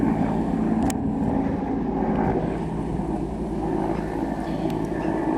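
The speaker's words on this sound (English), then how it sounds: "This bloody helicopter" A helicopter flies overhead near a parked car and keeps up a steady, loud, rumbling drone with a continuous low roar and a buffeting quality throughout.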